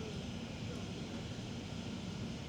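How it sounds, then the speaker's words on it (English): A camera drone flying over London in winter gives a steady, broadband motor drone with a constant hum and no breaks. "I can still see the drone."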